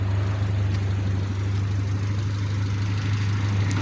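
A Toyota Lite Ace engine runs steadily through a T304 stainless steel exhaust, a constant low droning hum with a strong deep tone, loud and close, with no talking.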